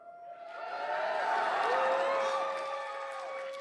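Arena crowd cheering and making noise at the 2022 Brawl Stars World Finals grand final, a loud swelling roar that rises and then holds steady, with a sustained tone running beneath it.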